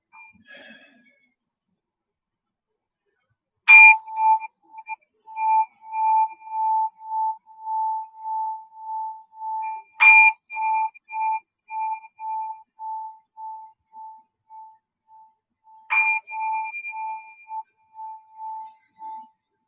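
A meditation bell is struck three times, each strike ringing out clearly and then fading into a long, steady, pulsing hum, with quiet between strikes during a service.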